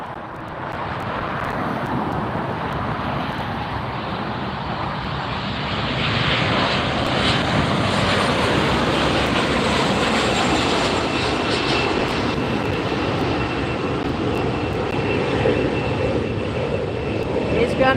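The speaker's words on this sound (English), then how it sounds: "this Delta that's departing is 2459, headed to Portland," Delta Airbus A319 airliner departing LAX for Portland, a loud, continuous jet engine roar that swells slightly and holds steady throughout, with some talk underneath.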